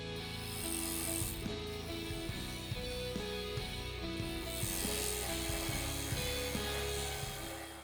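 Bowl gouge cutting a timber bowl on a wood lathe, a steady close whirring drone broken by rhythmic scraping and chattering catches as the tool sweeps toward the centre, with no talking.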